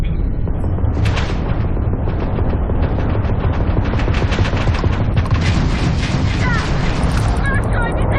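Heavy, rapid gunfire rattles almost continuously in a Starfield ship fight, dense and loud, with bursts stacking over one another and a voice talking briefly at points.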